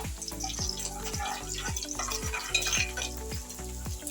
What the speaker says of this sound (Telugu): కొద్దిగా మెంతులు, కొంచెము వేగనిద్దాం మెంతులు